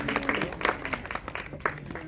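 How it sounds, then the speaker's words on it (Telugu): An audience claps steadily at a Telugu movie teaser launch event, welcoming guests onto the stage; the applause runs throughout as a dense, moderately loud wash with a few sharper claps. "గట్టిగా చప్పట్లతో ఇరువురిని సాధారణంగా ఇన్వైట్ చేసేద్దాం"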